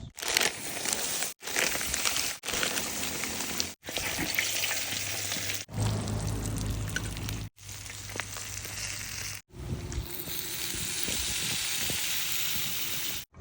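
Crab frying in hot oil for a crab and durian sour curry, a dense, loud, continuous sizzle and crackle close up, heard in several separate stretches with brief silent breaks between them.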